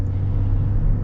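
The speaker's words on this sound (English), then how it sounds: "I love the sounds that this engine makes too." A steady, deep engine rumble drones continuously, low and throaty, from inside a moving 2023 GMC Sierra 1500 Denali Ultimate pickup with a Duramax diesel engine.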